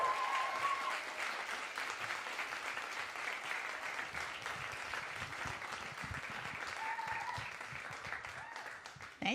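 An audience at a women's reading event claps for a performer introduced to the stage, with sustained, fairly distant applause and a few faint cheers, thinning slightly before a brief sound at the end.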